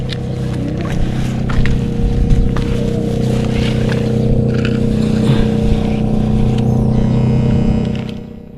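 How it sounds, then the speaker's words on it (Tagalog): Motorboats out on the water give a steady, droning engine hum that carries on throughout with a little wind noise, then trails off near the end. "Ayun na yung mga bangka oh."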